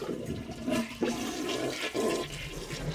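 A porcelain toilet flushes close by, a loud rushing gurgle of draining water with a couple of surging pulses as the tank empties during fill valve repair.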